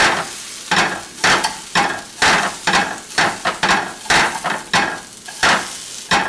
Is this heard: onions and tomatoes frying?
yes